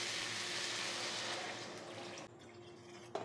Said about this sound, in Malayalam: ഇനി ഇതിലോട്ട് കുറച്ച് വെള്ളം ഒഴിച്ചു കൊടുക്കാം, ചെറിയ ചൂടുവെള്ളം.